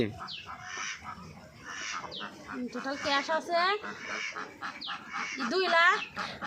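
Ducks on a duck farm quack and honk in repeated bursts, close by and fairly loud, with calls overlapping and building toward the end.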